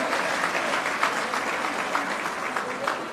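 Steady, sustained clapping fills an assembly hall as a large audience applauds at length, dense and even throughout with no break.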